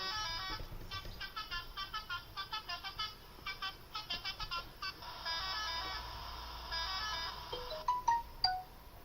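A phone message notification sounds in rapid, repeated melodic chimes and beeps, moderately loud over a steady low hum from the Euro Truck Simulator 2 truck game, with a few sharper tones near the end.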